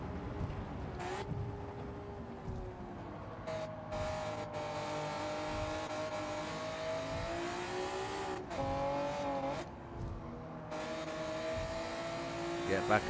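Honda NSX Type R ('92) engine revving in Gran Turismo 7 on Tokyo Expressway, a rising and falling high-pitched whine with shifts and brief tire squeal, under someone talking.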